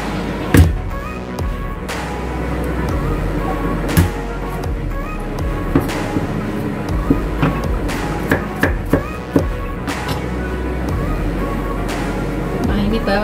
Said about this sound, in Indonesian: Dan bawangnya saya cincang ya teman-teman